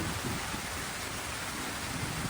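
Rain falls outdoors in Chicago as a faint, even hiss that stays steady, with no voices.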